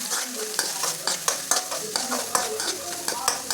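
Mustard seeds, green chilli and onion frying in a generous amount of oil in a pan, with a steady sizzle broken by repeated sharp stirring scrapes and clicks of a spoon against the pan.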